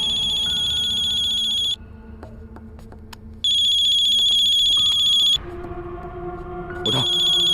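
A mobile phone ringtone plays close by in repeated bursts of a bright electronic tone, cutting off briefly and returning, with no speech over it.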